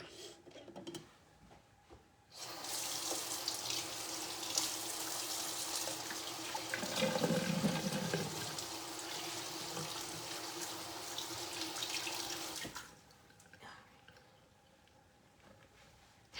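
Tap water runs steadily into a kitchen sink for about ten seconds while hands are washed under it, a close, continuous splashing hiss that stops abruptly, with quiet room sound before and after.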